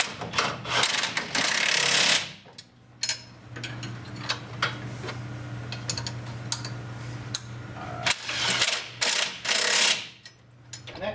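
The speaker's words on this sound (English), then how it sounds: "go ahead and fasten these 4 bolts down" A ratchet tightens four motor mount bolts on a Polaris RZR 1000 or Turbo motor mount tube, producing loud rapid clicking bursts at close range, separated by quieter stretches with a low hum.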